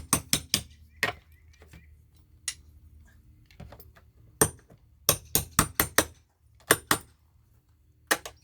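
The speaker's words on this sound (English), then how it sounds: "I can always beat on cat's paw with this part of the hammer" Steel-handled hammer striking a cat's paw nail puller in sharp metallic blows, some single and some in quick clusters, with quiet gaps between, close up and without talk.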